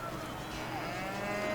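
Cow mooing in the video game Tormented 12, a steady low game sound that fills the short moment on its own with no talk.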